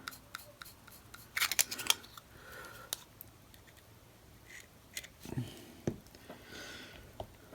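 A small cap is pressed back onto a bearing in an OG Chronarch reel, making a few sharp, close clicks and light scrapes, scattered and faint amid quiet handling sounds.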